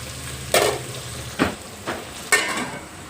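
Tomato pieces fry in a pan for biryani at a food stall, a steady sizzle broken by four distinct scraping stirs at roughly even intervals, close and clear, with no talk.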